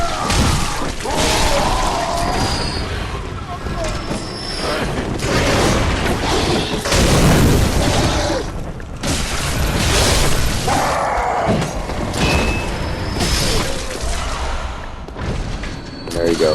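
Enemy gunner in the Bloodborne video game firing shots, heard as repeated booming thuds and crashes within a dense, busy game soundscape with continuous talk over the top.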